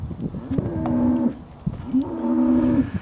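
A cow, a show-quality breeding animal, gives two loud close moos in a row, each a long low drawn-out call with a short pause between them.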